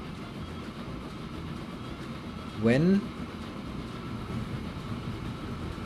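A train runs in the Transport Fever 2 video game, a steady rumble of rolling rail noise with a brief rising whistle-like tone partway through, under someone talking.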